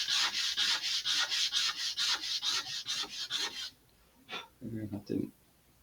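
Steady rhythmic sanding strokes on model rocket parts, fast and close, rasping back and forth for several seconds, then stopping before a few brief scrapes and a short voice.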